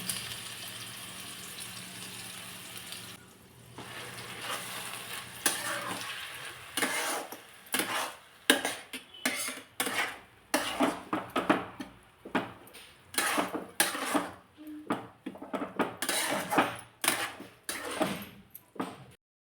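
Pumpkin paste sautéed in hot oil with cumin seeds in a pan, stirred with a utensil that scrapes and clatters against the metal in a steady run of sharp, close strokes, each with a soft sizzle beneath.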